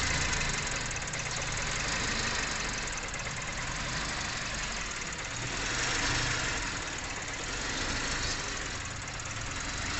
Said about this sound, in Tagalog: Kinggan nyo ang andar ng makina